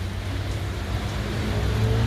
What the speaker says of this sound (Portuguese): Muita chuva aqui no sertão.